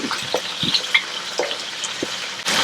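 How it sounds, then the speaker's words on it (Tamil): Green chilies sauté in hot oil for mutton masala, giving a constant sizzle broken by several soft stirring scrapes at irregular intervals, close and clear with no talking. "பச்சை மிளகாய் போட்டுடலாம். போட்டு நல்லா அப்படி வதக்கி விடுங்க."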